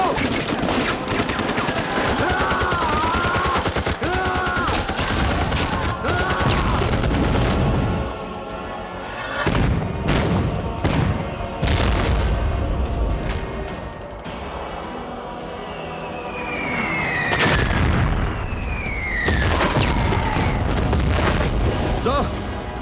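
Gunfire and artillery shelling in a war film battle scene against Chinese troops, with dense rapid bursts, booms and whistling shells, loud and continuous, mixed with shouting voices and a dramatic score.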